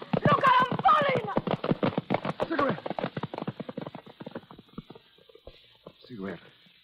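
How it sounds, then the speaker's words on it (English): Horse hooves clip-clop in a steady, fast rhythm as a radio drama sound effect, loud at first and then tapering off, with people speaking over them. "If you don't stop, I'll have to lift you off your horse."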